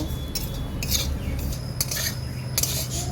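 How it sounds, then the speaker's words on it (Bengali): Spoon scraping and clinking against a pan as something is stirred while being lightly dry-roasted, steady close scrapes in bursts with no talk. "এটা কন্টিনিউ নাড়তে হবে, এটা খুব বেশি আমি লাল করব না, হালকা করে আমি রোস্ট করব"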